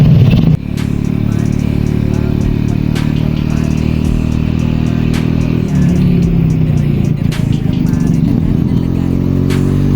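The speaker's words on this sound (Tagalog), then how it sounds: "Sasakay tayo kay Manong ng tricycle. Nakasakay tayo tricycle." A motorized tricycle rides along with a steady, loud engine drone and rattling clatter throughout, shifting pitch as it changes speed, while voices talk over it.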